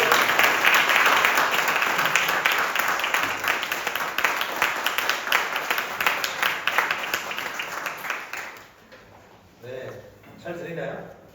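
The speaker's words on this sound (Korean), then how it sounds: "여러분 크게 뜨거운 박수로 환영해 주시기 바랍니다" A church congregation at a youth worship service breaks into loud, sustained applause to welcome the pastor, then the clapping fades and a voice speaks near the end.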